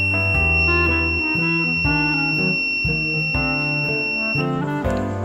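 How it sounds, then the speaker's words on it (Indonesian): A steady, high electronic buzzer tone from an ESP32 temperature alarm with a DS18B20 sensor sounds continuously under louder background music for about four seconds, then cuts off. "ketika suhu lebih dari 35 derajat Celcius, maka buzzer akan berbunyi secara otomatis"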